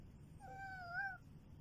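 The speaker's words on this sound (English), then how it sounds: "Oh, that's a cat." A cat gives a single soft, rising-and-falling meow at close range, fairly quiet over a low background hum.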